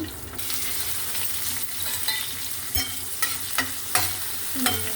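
A spice tempering of mustard seeds, dried red chillies, coriander seeds, cumin and crushed garlic sizzling in hot oil, a continuous close crackle with occasional stirring clinks and pops.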